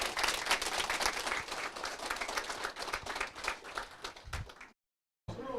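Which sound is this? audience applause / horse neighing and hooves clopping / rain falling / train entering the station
audience applause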